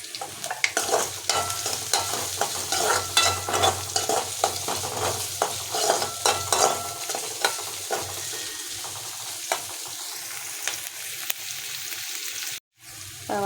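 Ingredients sautéing in a pan with a little salt, a steady close sizzle broken by frequent scraping and knocking stirs early on, settling into calmer frying hiss before a brief click near the end.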